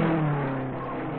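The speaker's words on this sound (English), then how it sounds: "The leaders roared through the first lap at better than 133 miles an hour" 1950s Indianapolis 500 race cars roaring around the track in the 1955 race: a sustained, loud engine roar with a droning low tone, steady over a brief stretch and muffled like an old recording.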